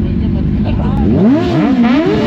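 A loud superbike engine revs up close, its pitch sweeping up, dipping and climbing again over a couple of seconds, with voices mixed under the roar.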